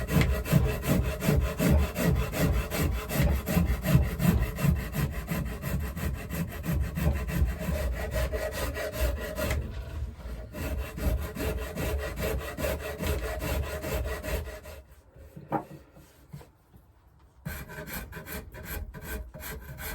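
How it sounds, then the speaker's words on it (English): Hand-carving a facet into the wooden body of a Fender Jaguar Johnny Marr build produces rhythmic, close rasping strokes that run steadily before thinning out near the end. "So I carve out between that line, and that's my first facet, and do that either side."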